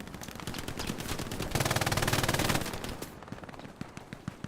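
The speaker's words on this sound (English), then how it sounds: "MG42 does its noble work." Bursts of MG42 machine gun fire in a multiplayer war video game, dense rapid rattling that builds to a loud sustained burst, then trails off into scattered shots.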